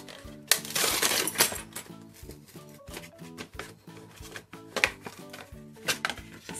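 Plastic packaging on a Fireman Sam comic magazine's free toy play set, with a badge and keys, crinkles and rattles in bursts as it is opened close up, over quiet background music.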